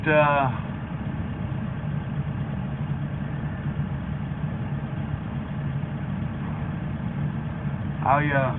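A farm tractor's diesel engine idles steadily and loudly throughout, a constant low rumble while fertilizer is being loaded, with a brief swell of engine noise at the start and again near the end.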